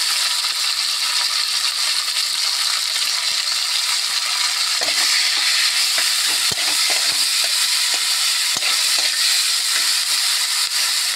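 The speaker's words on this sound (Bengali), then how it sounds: "মশলাটা ভালোভাবে ভাজা হোক" Potatoes and spices with tomato and salt fry in a pan, giving an unbroken loud sizzling hiss with scattered clicks and light stirring knocks.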